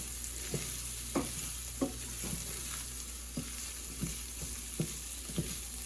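Risotto rice being stirred in a pan: a spoon scrapes and clicks at regular intervals of roughly half a second over a low, steady sizzle, close and moderately quiet, with no voices.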